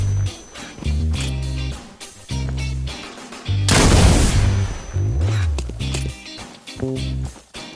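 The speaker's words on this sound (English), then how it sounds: "Coming up first is the only new weapon, the RPG-7." An RPG-7 rocket launcher from a Minecraft military gun addon fires a single loud, roaring blast lasting over a second, set against rhythmic background music.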